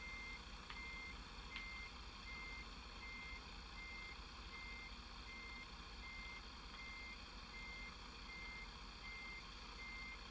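A truck's reversing alarm in American Truck Simulator, sounding a steady run of evenly spaced electronic beeps over a faint constant engine hum, with no talk.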